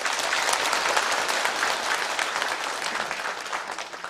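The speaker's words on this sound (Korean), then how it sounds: "뜨거운 박수 부탁하겠습니다" An audience at a National Assembly forum gives warm applause, a full, sustained patter of many hands clapping in a hall, steady at first and gradually easing toward the end.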